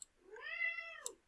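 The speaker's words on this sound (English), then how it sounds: "She's extremely loud when she meows." An elderly deaf cat gives a single loud, drawn-out meow that rises and falls over about a second, close up in a quiet room with no talking.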